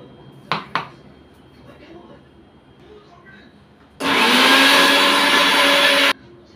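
An electric blender purees onion and tomato in one loud whirring burst of about two seconds. A couple of sharp clicks and a quiet lull come before it.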